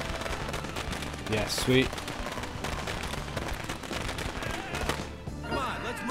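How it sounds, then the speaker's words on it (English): Firecrackers pop in rapid crackling bursts in Dead Rising 2, layered into busy game noise as a voice briefly speaks over them. "Put the stupid fucking firecrackers down."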